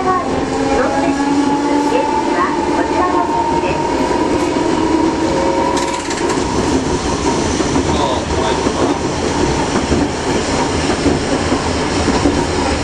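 A tram in Matsuyama, Japan rumbles loudly as it pulls away and keeps running, with a steady rolling drone, rattling wheels and a hum that rises partway through.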